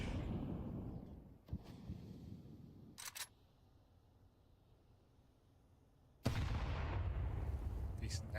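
A grenade blast in Counter-Strike, a sudden loud boom followed by sustained rumble, after a quieter stretch with a few sharp clicks and shots.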